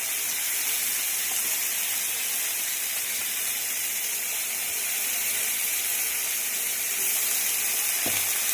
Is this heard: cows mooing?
no